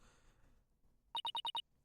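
A phone rings inside a suitcase in the Ace Attorney video game, five quick, evenly spaced electronic trill pulses after a faint, murky lead-in.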